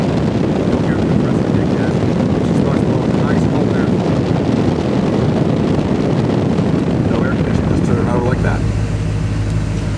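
A Chevrolet Camaro engine runs with a steady rumbling drone, heard up close with wind noise over the microphone.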